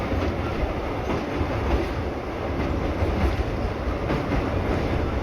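The Rameswaram to Tambaram express rolls across the Pamban railway bridge with a continuous, fairly close rumble and a rhythmic clickety-clack of wheels, steady throughout with no voices.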